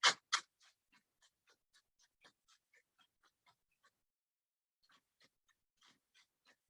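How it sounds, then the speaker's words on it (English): A carrot is peeled in quick, scraping strokes, each one a short soft rasp at an even rhythm with a brief pause partway through. "I'm just gonna peel part of the carrot."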